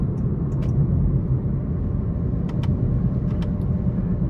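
A 2018 Honda Clarity Plug-In Hybrid Touring, stopped at a red light in EV mode, switches over to its gas engine: a steady, close low rumble of engine and car cabin noise, with no talking.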